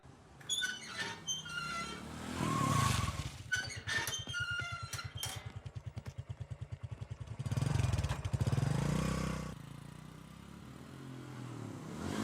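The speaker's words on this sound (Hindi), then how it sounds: "ए गाड़ी चला।" A car pulls away in a rural Indian village setting in an action film, its engine a steady pulsing rumble that swells and then fades, with other loud movie sounds around it.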